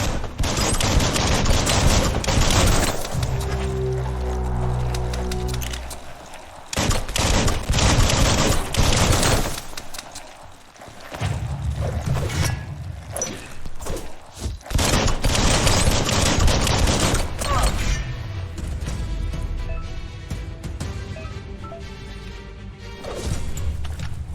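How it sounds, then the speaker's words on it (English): Bursts of rapid gunfire in the video game Biomutant crackle loudly in repeated volleys, some sustained and some short, with brief gaps between them. "Bullets everywhere."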